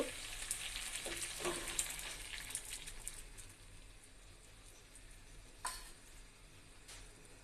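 A hilsa fish head fries in oil for a mung dal muri ghonto with a faint, steady sizzle. A few brief louder bursts break in as mung lentils go into the pan.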